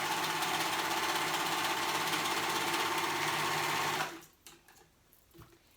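A sewing machine runs steadily as it stitches the shoulder seam of a kids' polo shirt, a loud continuous whirring hum for about four seconds that then stops abruptly, leaving faint handling noises.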